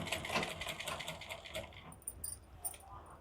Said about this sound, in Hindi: इसलिए हम कच्चा मशीन खाली चलाएंगे